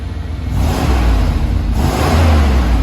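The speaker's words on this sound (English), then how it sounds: "I'll give it a little rev here so you can hear what it sounds like." A 1994 GMC Suburban K1500's engine revs up twice in quick succession, a loud, rumbling swell, heard close by.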